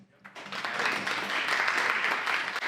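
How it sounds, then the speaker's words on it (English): A small group claps for realtors, a short burst of applause that starts abruptly after a brief quiet moment and stays fairly even and moderately faint. "That's a round of applause for you guys."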